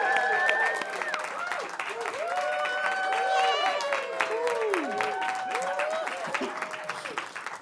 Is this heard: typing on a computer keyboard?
no